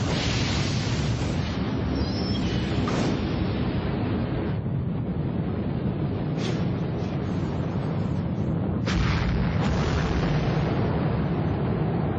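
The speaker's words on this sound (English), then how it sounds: "This is the power of a hydrogen bomb." A hydrogen bomb explosion gives a deep, continuous roaring rumble, loud and close, with surging blasts of noise and no voices.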